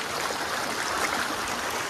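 Water pouring steadily over the Kolonga irrigation waterfall in West Karbi Anglong, Assam, a broad, continuous rushing roar heard close and loud with no voices over it.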